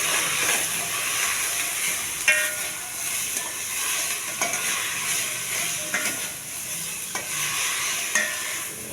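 Chopped bottle gourd with turmeric and a pinch of chilli cooks in a pan, giving a steady soft sizzle and hiss with occasional scraping stir clicks, close and continuous.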